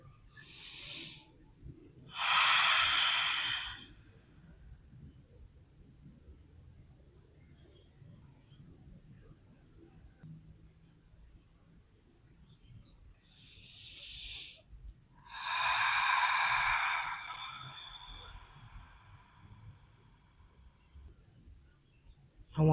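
Two slow, deep inhales drawn through the nose during a yoga relaxation pose, each a breathy hiss lasting a couple of seconds, close and loud, separated by long quiet stretches.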